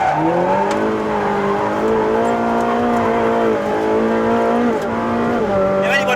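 A Ferrari 458 Speciale with its 597bhp engine is driven hard on a race track, giving a loud, continuous high-pitched wail that climbs and dips through gear changes, close and alone.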